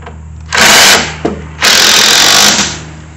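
Power drill tightening a bolt while assembling a Craftsman 208cc 24 inch snow blower, with two loud close whirring runs separated by a short pause, no talk.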